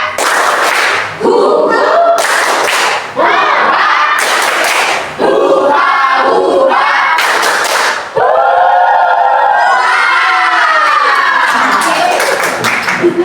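Children in a classroom loudly performing the tepuk rimba clapping chant, rhythmic group claps and shouted chanted phrases in bursts separated by brief pauses, ending in a long sung call.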